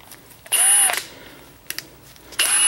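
A Milwaukee power tool snugs car lug nuts on a 2006-2012 Ford Fusion during a front brake and rotor job: two short, loud whirring bursts close by, a brief clicking between them, and no speech.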